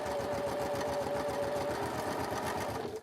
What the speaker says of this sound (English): so I've gone one way, and then I do a reverse stitch